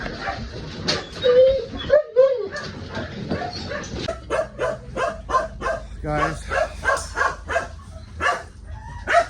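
A dog at an animal shelter gives short barks, yips and whimpers, close and loud. A person talks over the start, and the yelps and whines keep coming in a broken rhythm.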